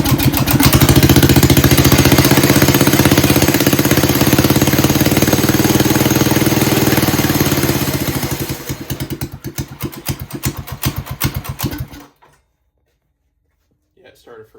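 A Predator 212cc small engine fitted with a budget carburetor kit, running loud and close with a rapid, chattering mechanical pulse that drops in level and then cuts out abruptly, followed by near silence.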